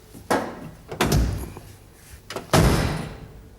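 A car door slams shut during body repair in a workshop, three solid thuds in a row, the last the loudest, with no talk.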